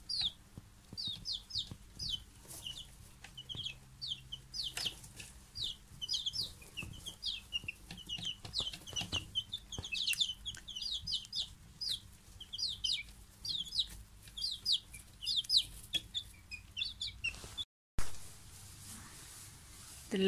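Young chicks at a children's farm, giving rapid high chirps and soft clucks in dense, overlapping bursts throughout, fairly faint, over low barn background noise with a brief cut near the end.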